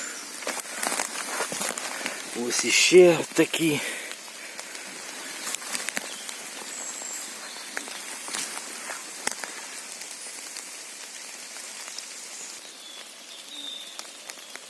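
Steady rain patters on leaves and the ground in a forest during mushroom picking, a soft continuous drizzle with scattered louder drops, while someone briefly speaks and rustles nearby early on.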